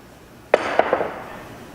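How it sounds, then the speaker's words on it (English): A pool jump shot sends the cue striking the 11 ball toward the corner pocket: one sharp crack, then two quick lighter clacks as the balls bounce and collide, close and alone in a quiet room. "I'm going to attempt to shoot this 11 ball into the corner pocket."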